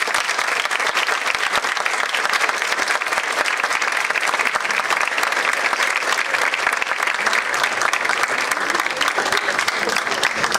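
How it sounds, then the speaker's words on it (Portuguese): Sustained audience applause fills the room at the close of a São Paulo government policy event, dense and steady throughout with no pauses, loud and close. "pedir uma salva de palmas"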